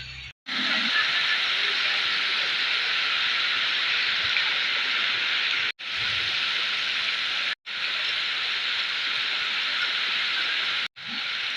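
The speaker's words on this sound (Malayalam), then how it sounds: "നല്ല മഴ അല്ല, നല്ല ശക്തമായ മഴ പെയ്യുക." Heavy rain pouring down in a steady, loud broadband hiss, interrupted by a few abrupt cuts, with no talk over it.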